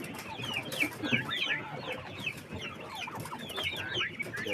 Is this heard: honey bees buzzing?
no